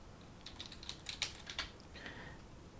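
Someone types the short word Sizer on a computer keyboard: a quick run of about half a dozen soft, close key clicks in a quiet room.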